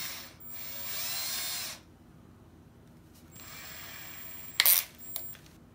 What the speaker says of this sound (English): I'm going to chuck it up in my drill